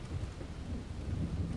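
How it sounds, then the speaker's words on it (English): Heavy rain pours steadily with a deep, continuous rumble of thunder beneath it, a dense low roar in a dark pub setting in a horror video game. "The rain."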